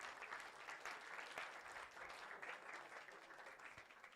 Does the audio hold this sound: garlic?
no